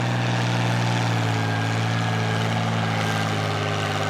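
A heavy pulling-tractor engine drones steadily under load at a tractor pull, a loud continuous rumble with a constant low hum and no pauses.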